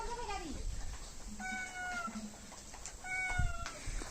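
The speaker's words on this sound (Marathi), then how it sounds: "मांजर आहे आपली" A domestic cat meows near a garden area with a gourd trellis, two or three rising, wavering calls at moderate distance over faint outdoor background noise, with no talking.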